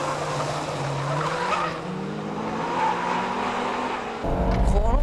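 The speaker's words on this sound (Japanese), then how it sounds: "最終コーナーに飛び込む2台" Two Honda Integra Type R DC2 cars, a 1996 and a 1998 spec, race into the final corner, their engines droning close and loud with tires squealing. The roar surges sharply near the end of the pass.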